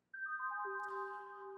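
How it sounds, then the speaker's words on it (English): A bright synthesized tone plays a short, harp-like descending melody of sustained notes, each held and layered over the last, ringing clearly and alone. "And then he adds his falling melody synth, which sounds like this."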